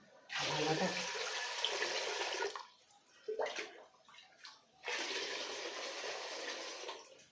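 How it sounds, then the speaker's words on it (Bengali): Water gushes steadily into a pot, pauses briefly with a few splashes and knocks, then pours again in a continuous close stream. "বলতো জলটা কেন ঢালছি হাঁড়ির মধ্যে"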